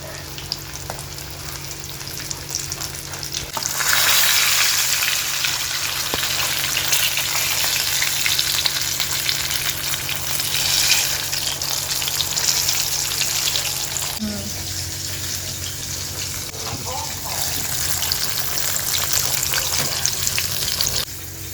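Pieces of KFC-style chicken frying in hot oil two at a time, giving a steady loud sizzle that swells sharply a few seconds in and crackles continuously throughout, with no talking.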